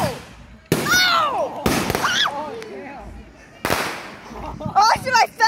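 Fourth of July fireworks going off nearby as loud bursts and crackles with fizzing, whistling trails, several sharp blasts spread across the clip, with people shouting and reacting in between.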